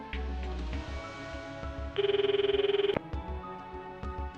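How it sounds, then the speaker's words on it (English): In the horror video game Corpse Party: Blood Drive, a phone rings as a short burst of rapid electronic trilling over a dark, droning game soundtrack, then cuts off abruptly. "Oh, I'm getting a phone call."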